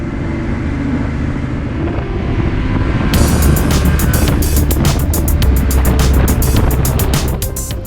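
A Yamaha Tenere 700 adventure motorcycle on a solo camping trip gives a loud, constant engine drone and wind roar throughout, with rapid rhythmic pulses coming in during the second half.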